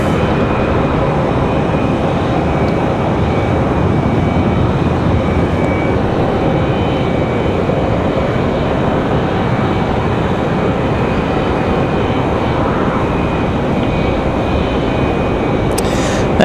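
Republic Airways Delta Connection jet at Raleigh-Durham airport, a continuous loud broadband engine roar holding steady throughout with no talk.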